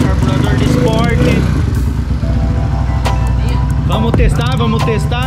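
A Honda Fan 160 motorcycle with a sport carburetor, modified cam and exhaust fires up for its first start, its loud engine idling and revving close by while someone talks over it.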